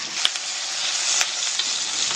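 Garlic and onions fry in a pan with a steady, bright sizzle, close and continuous, with a few soft clicks of stirring and no talk.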